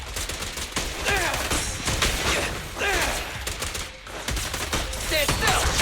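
Rapid bursts of gunfire from a character threatening a target in a dramatic scene, with loud, dense repeated shots in clusters across the clip and a voice shouting between them.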